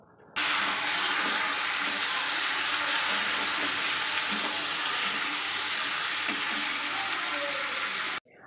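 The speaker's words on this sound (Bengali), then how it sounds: "এদিকে চিকেনটা কষা হচ্ছে" Chicken sautéed in a pan for coriander chicken, with some water released from the meat, gives a continuous loud hissing sizzle with faint stirring clicks, running steadily for about eight seconds without speech.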